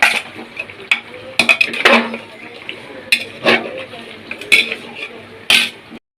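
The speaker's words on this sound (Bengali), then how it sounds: "ছোটো যা চিকেন রান্না করছে আর মাটন রান্না করছি আমি" Pots and utensils clatter close by as chicken and mutton cook in a home kitchen, with scattered scrapes, clinks and knocks over a steady background murmur.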